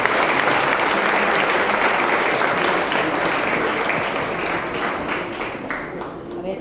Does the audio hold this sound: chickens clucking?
no